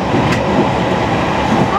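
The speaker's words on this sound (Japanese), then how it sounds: "引き続き懐かし い旧型客車の旅をお楽しみください" Old passenger coaches from 1938 and the early 1950s run on the rails of a rapid retro excursion train in Fukushima. A steady, loud rumble and rattle of the cars continues throughout, with a faint voice underneath.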